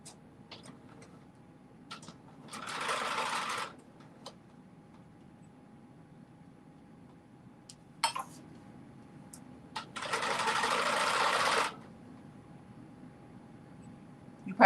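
Sewing machine stitching the bottom hem of a dress in two separate bursts of steady, close whirring, each lasting a second or two, separated by quiet with faint clicks.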